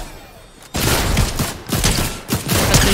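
Rapid bursts of gunfire from shooting bots in the video game Fortnite, loud and dense after a quiet start, with repeated volleys running through to the end.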